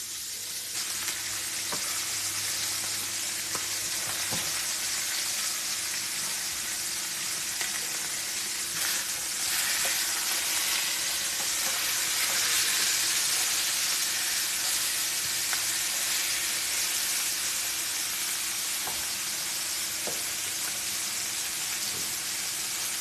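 Short ribs sizzle and fry steadily in oil in a pan, a continuous broadband crackle with a few sharper pops, close and fairly loud with no talking.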